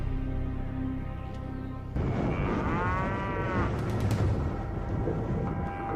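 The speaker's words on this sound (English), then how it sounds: "This remote cow pasture, a 3 hours drive north of Phoenix" Cattle moo in a remote cow pasture three hours north of Phoenix, one long low call standing out over a steady outdoor background.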